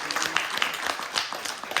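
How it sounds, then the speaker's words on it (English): A short burst of audience applause at a Bluebell Railway fan meetup, many hands clapping together in a dense, lively patter. "let's give a round of applause for that"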